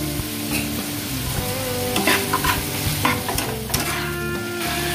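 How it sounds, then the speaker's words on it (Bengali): Chicken pieces frying in a pan with turmeric and salt, a steady loud sizzle broken by the scrape and clatter of stirring, with no voices. "চিকেনটা অনেকটাই ভাজা হয়ে গিয়েছে।"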